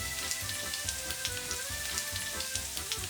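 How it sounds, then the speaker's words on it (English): Chopped bacon fries in an oiled frying pan over medium heat, a steady close crackling sizzle with dense little pops throughout and no voices. "Add the chopped bacon and cook until it starts to crisp."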